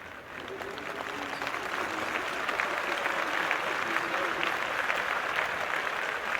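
Steady roar of applause from a large cricket stadium crowd in a video game match, sustained and dense throughout with a faint murmur of cheering, no clear spoken words.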